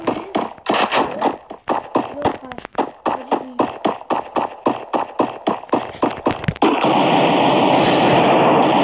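Gunfire in a video game: a rapid string of loud, close, evenly spaced shots lasting several seconds, followed by a sustained noisy rush, with no voices.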